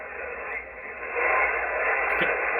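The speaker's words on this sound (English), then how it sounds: "Can you hear the weak station in there?" A faint voice signal from a weak station on the 40-metre amateur band, buried in steady shortwave static hiss, the noise swelling slightly louder partway through, with no clear talk standing out.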